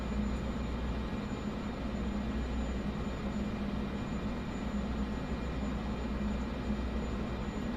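An airplane flying overhead in a flight simulator game, a steady faint broadband engine drone held evenly throughout with no variation or talk.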